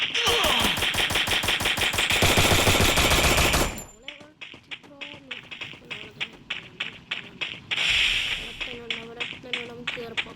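Rapid gunfire in the video game Free Fire: a sustained automatic burst for several seconds, then a steady run of separate loud shots with game effects between them.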